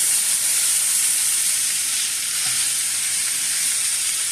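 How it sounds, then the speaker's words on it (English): Thinly sliced beef frying in avocado oil in a medium-hot pan for a cheesesteak, a loud, dense, continuous sizzle that stays even throughout, close up and with no talk. "into our medium heated pan, I've thrown a couple more tablespoons of my avocado oil, and I have thinly sliced up that beef."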